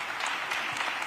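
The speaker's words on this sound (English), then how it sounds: "y'all go ahead clap" Audience at a university event clapping: a dense, fairly faint wash of many hands, steady throughout with no voices.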